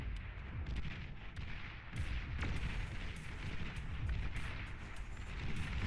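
Dense, continuous volleys of unit weapon fire and booming impacts in a Beyond All Reason battle, with overlapping shots and blasts rumbling steadily throughout at moderate loudness.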